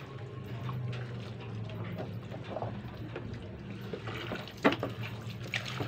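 A leather bag is rinsed in a sink of water, giving a steady close wash of splashing and trickling with a low running-water hum and a few sharper splashes near the end; no one speaks.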